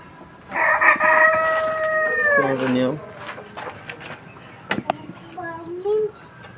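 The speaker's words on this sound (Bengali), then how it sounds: "এখানে আমাদের দেখতে পাচ্ছেন ফাইটার মুরগি" A fighter-breed rooster on a farm crows loudly and close in one long drawn-out call, followed by quieter clucks and short fowl sounds.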